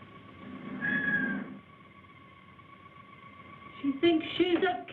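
A woman imitates a cat, giving a drawn-out meow early on and then a burst of choppy, yowling mews near the end, with a quiet gap between.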